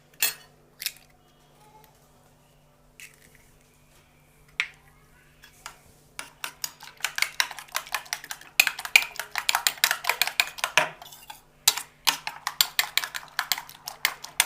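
A spoon clinks and scrapes rapidly against a bowl, mixing egg with onion and green chilli for egg dosa; sparse taps at first, then a dense, steady run of close metallic clatter.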